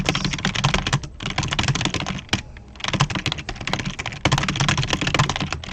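Rapid, steady typing on a computer keyboard while entering French, German and Italian text, with dense close-up key clacks and one brief pause midway, no voices.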